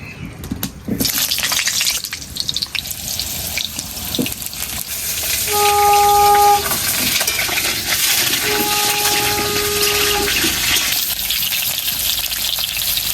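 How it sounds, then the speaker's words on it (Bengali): Steady, loud sizzling and crackling of potatoes frying in hot mustard oil, continuous throughout, with two brief tones sounding in the middle. "তেল গরম হয়ে গেছে, আলুগুলো এবার আমি লাল লাল করে ভেজে নেব।"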